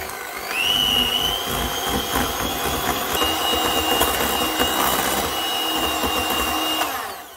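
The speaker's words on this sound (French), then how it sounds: "On va fouetter tout ça." A coffee ice cream mixture being whisked gives a loud, steady mechanical whirring that runs without a break for about seven seconds, then cuts off. No one speaks over it.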